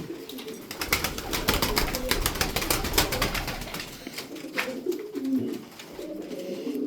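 Game pigeons coo steadily in a low, rolling chorus, mixed with sharp clicks and rustling from close by.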